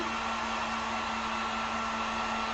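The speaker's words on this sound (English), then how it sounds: "throw the heat gun on here. Working fast, but always on that low heat" A heat gun on low heat blows steadily onto acrylic paint on a wood sign, giving a constant, close, even whirring hiss with a faint motor hum.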